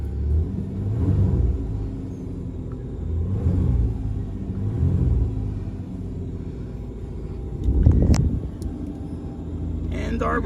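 A 1995 Ford Ranger engine cold-started, settling into a low, rough rumbling idle with a few swelling surges, a slight rev near the end, and a person speaking over the engine.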